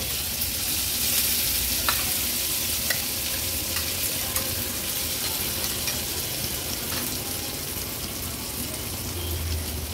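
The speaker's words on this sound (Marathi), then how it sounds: "तेलावर ही वाटलेली चटणी काढून घेऊया" Freshly ground chutney sizzles in a spoonful of hot oil in a pan on a gas stove, a steady close frying hiss with a few sharp spoon clicks and no talking.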